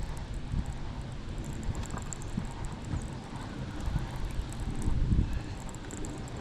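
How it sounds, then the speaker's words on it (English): Wind gusts across the microphone outdoors while people fish from a bass boat, a low rumbling buffet with uneven surges that swell louder near the end. "A little windy out there."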